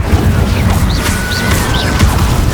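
An Incendio fire spell cast in the video game Hogwarts Legacy: a loud, dense roaring burst of flame that holds steady for a couple of seconds, with faint whooshing swirls on top.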